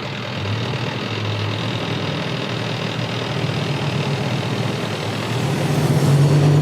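Street traffic in front of a school at dismissal time, cars and a truck steering around a police car parked with its lights on and pulling into the opposing lane; a steady engine and road rumble continues throughout, swelling slightly near the end.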